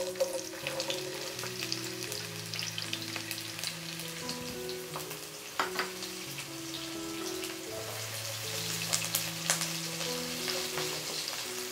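Onion frying in a pan for rellenong bangus, a soft steady sizzle with scattered crackles, faint and close, while sustained musical tones play underneath.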